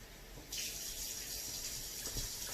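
Water streams steadily into a sour cream sauce in a home kitchen, a close, soft continuous pour that starts abruptly and keeps running with a faint hiss, no voices.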